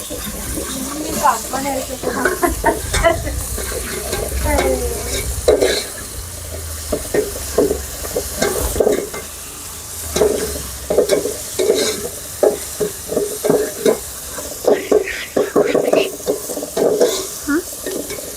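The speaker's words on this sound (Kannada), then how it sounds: "ಹುರ್ಕೋತಾ ಇದೀವಿ. ಇದು ಶುಂಠಿ ಬೆಳ್ಳುಳ್ಳಿ ಪೇಸ್ಟು, ಅದನ್ನ ಮಿಕ್ಸ್ ಮಾಡ್ಕೊತಾ ಇದೀವಿ." Ginger garlic paste fries with browned onions in a pan and is stirred often, giving a steady sizzle broken by scraping, clattering spoon strokes. A person talks over the cooking throughout.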